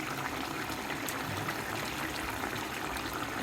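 Hilsa fish curry with data stems being stirred gently in a pot, a steady soft bubbling and liquid swishing sound, continuous and fairly quiet, with no talking.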